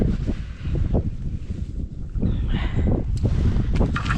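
Steady, blustery wind roars across the microphone during winter ice fishing, with gusty low rumbling and rustling, loud and close throughout, with no voices.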